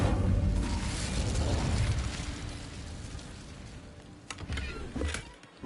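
Incendio fire spell cast in Hogwarts Legacy, a loud rushing burst of flame that roars and slowly fades, followed by a couple of sharp crackling pops.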